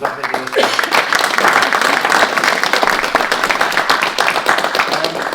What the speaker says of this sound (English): I think they do deserve a round of applause.